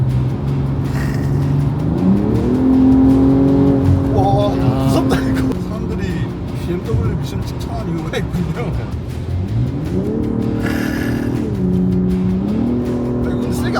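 A BMW engine revs to high RPM with rising and falling pitch sweeps, loud and close from inside the cabin, while people talk over it.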